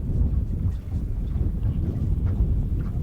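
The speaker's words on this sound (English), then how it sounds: "A little windy, overcast." Strong gusty wind buffets the microphone throughout on an overcast day in Paradise, Louisiana, a heavy low rumble that rises and falls without pause.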